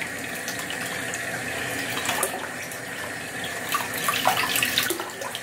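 Tap water runs steadily into a sink while a makeup brush is rinsed of soap, giving a continuous close splashing hiss with brief bursts of heavier spatter and no talking.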